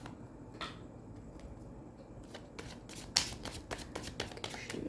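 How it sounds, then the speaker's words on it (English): Tarot cards are shuffled and drawn from the deck, making soft riffling and flicking sounds with sharp little snaps near the end, quiet and close, with no voice. "We'll just pick a few more cards out for clarification."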